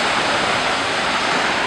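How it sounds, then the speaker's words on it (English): A Yosemite waterfall roars in a steady, broad rush of falling water, loud and continuous with no other sounds breaking through. "A waterfall."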